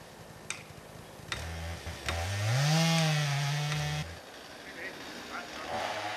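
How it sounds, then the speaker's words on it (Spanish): Chainsaws cut timber in a snowy Bohemian forest, one saw revving and bogging in a rising and falling whine for a couple of seconds amid faint ticks and background activity. "El sonido de las motosierras nos devuelve al presente."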